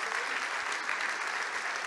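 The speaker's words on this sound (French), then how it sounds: "Je voudrais vous demander d'applaudir ceux qui se sont occupés de la garderie des enfants" Steady applause from a conference audience fills the space at a closing ceremony, a dense, even wash of clapping that holds at the same level throughout with no voices rising above it.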